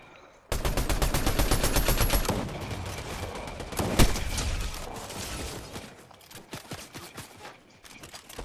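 Rapid video game gunfire crackles in dense, loud automatic bursts that start abruptly and keep going, then thin out into scattered single shots, with no talk over them.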